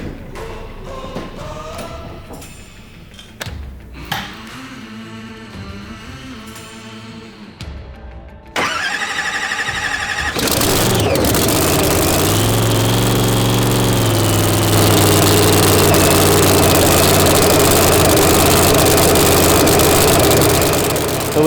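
A drag racing car engine in a No Prep Kings racing shop starts up with a few thumps, then settles into a loud, steady, rumbling idle that holds up close for many seconds.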